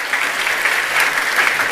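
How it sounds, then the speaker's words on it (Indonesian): An audience at a church service claps together in steady, moderately loud applause that lasts the whole moment. "Tepuk tangan boleh."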